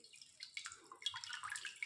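Water drips and trickles as slices of bread are dipped in a bowl of water and squeezed by hand, a short, faint run of wet splashes and droplets close by.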